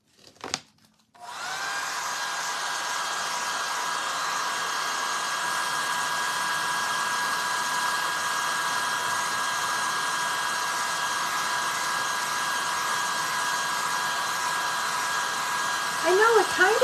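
A hair dryer blows steadily for about fifteen seconds on a decoupage Victorian bee project, drying the crackle finish. It is a loud, constant whir that starts abruptly after a brief click and runs alone.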